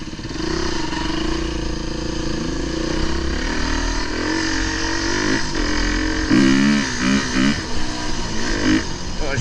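Four-stroke 350 enduro motorcycle ridden off-road, engine droning loud and close with repeated rising and falling revs, while a rider talks over it.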